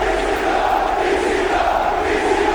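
A steady, roaring arena crowd in a WWE 2K24 wrestling game, set at a Kansas City, Missouri ECW show, a dense continuous cheer at constant loudness with no talk over it.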